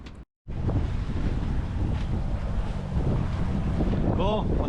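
A sailboat motoring along in a good breeze, with a steady engine drone and wind buffeting the microphone close up, water rushing around the hull, a brief dropout near the start and a short squeaky chirp near the end.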